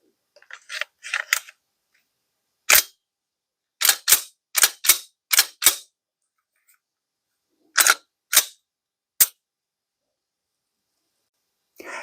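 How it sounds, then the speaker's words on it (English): Glock pistol being reassembled and function tested: close, sharp metallic clicks and snaps come in quick clusters separated by short silences, with no talking. "Our final step, reassemble and test for function."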